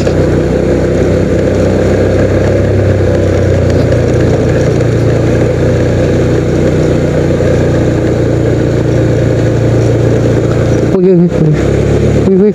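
Motorcycle engine revving and straining on a slippery road toward a waterfall in Banjarnegara, a loud, steady, close drone with the rider talking over it.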